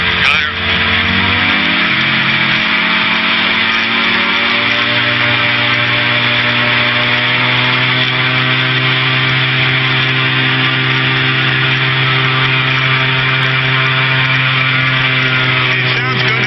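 A Challenger II ultralight aircraft's engine holds a run-up with the brake locked, a loud, buzzing, saw-like drone that climbs slightly in pitch and then stays steady and close for over fifteen seconds.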